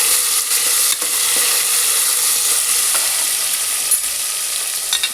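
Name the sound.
tomatoes being sautéed in a pan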